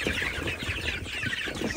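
Hens cluck and chatter close by in a broiler and chicken-rearing setting, a busy, continuous murmur of short clucks without voices.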